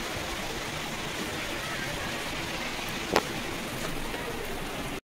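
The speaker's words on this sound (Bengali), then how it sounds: "আর বাইরে তো অঝরে বৃষ্টি পড়ছে" Steady, dense rain pours down continuously, a broad hiss with one brief sharp tap partway through.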